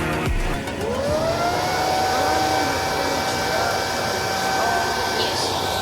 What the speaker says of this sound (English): Yes, our vacuum cleaner is ready with antibacterial protection.